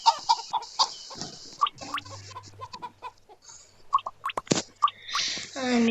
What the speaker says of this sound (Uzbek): Men masalan bitta tovuq topdim.